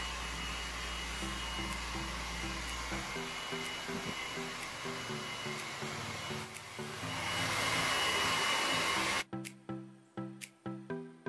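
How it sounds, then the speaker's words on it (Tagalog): Hair dryer blowing while drying hair after a haircut and hair relax treatment, a steady close whooshing drone that shifts in pitch, then cuts off abruptly near the end, leaving a few sharp clicks and knocks. "tapos na natin siyang i-blower, napatayo na natin siya"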